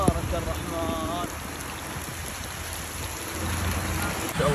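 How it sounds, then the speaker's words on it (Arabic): Floodwater after heavy rain in Al-Jumum runs under a bridge as a loud, continuous rushing wash, with a brief voice and tonal sound near the start. "الجمون بعد المطر سيول وخير من الله"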